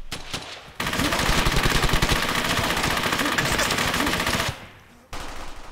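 Loud, sustained machine gun fire from the WWII shooter Brothers in Arms: Hell's Highway, set during Operation Market Garden, rattles continuously for about four seconds, then breaks off before a shorter burst resumes at the end.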